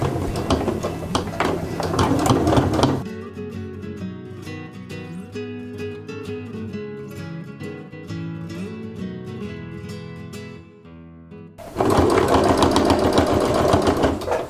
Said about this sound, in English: I'm going to go to the machine, stitch, back tack here, stitch, 1/4 inch all the way around, catching our ribbon